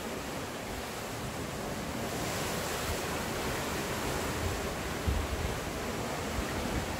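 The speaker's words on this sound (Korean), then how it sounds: "잠시 파도 소리 한번 들어볼까요?" Steady rushing surf at Songjeong beach fills the air, a broad continuous wash of breaking sea waves with a slight swell and no talking.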